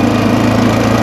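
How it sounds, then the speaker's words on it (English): A rebuilt Honda XR500 motorcycle engine runs loud and close, idling steadily with a rapid even beat and a clattery, noisy top end. "That top end sounds super noisy to me."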